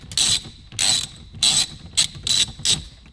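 A ratchet clicks in rapid bursts while backing screws out of interior trim on a Mk6 R car, six quick close ratcheting runs with brief pauses between them.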